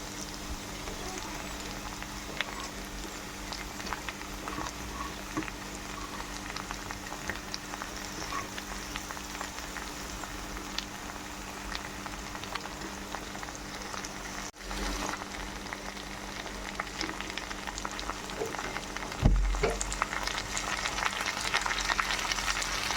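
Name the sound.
frying tomatoes and okra in a pan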